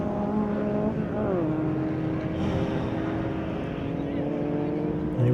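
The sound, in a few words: VW Polo race car engines racing on track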